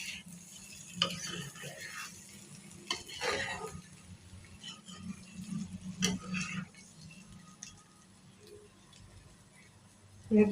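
A spoon scrapes and stirs egg masala fry in a pan, with an intermittent clatter of utensil against metal and a faint sizzle underneath, all fairly quiet and close.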